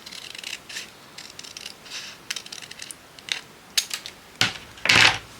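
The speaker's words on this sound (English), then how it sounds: "I'm going to cut with my scissors." Scissors snip through scrap craft material at a table, a series of dry rasping cuts in short bursts that grow louder and sharper toward the end, close up with no talk.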